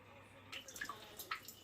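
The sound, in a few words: KitchenAid dishwasher running a rinse-only cycle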